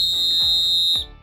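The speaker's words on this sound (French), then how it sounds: "tu effectues un coup de sifflet long" Single long, piercing referee whistle blast used to penalise encroachment, held at an even pitch for about a second before cutting off.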